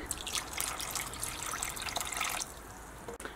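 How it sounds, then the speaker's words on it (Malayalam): Water pours into ginger and jaggery in a grinder jar, a close splashing trickle with bright gurgles that runs for a couple of seconds and then thins to a softer dribble, with no voices. "ഇനി നമുക്ക് ഇതിലേക്ക് ഒരു 3/4 കപ്പ് വെള്ളം ഒഴിച്ചിട്ട് ഇത് നല്ല പേസ്റ്റ് പോലെ അരച്ചിട്ടെടുക്കാം"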